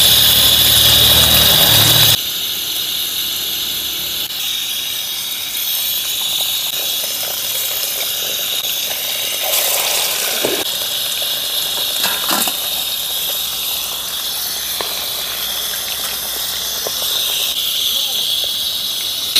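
Magur catfish pieces sizzle in hot oil with a loud, steady hiss that bursts up at first and then settles into a constant frying crackle, while a person talks over it.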